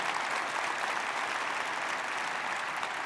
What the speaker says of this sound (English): can you give the team a round of applause regardless